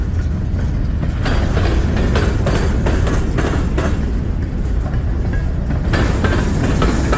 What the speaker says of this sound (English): First train going northbound, short train